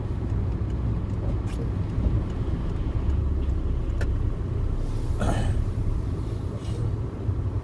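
A car drives through town streets and makes a right turn, a steady low engine and road rumble filling the cabin throughout.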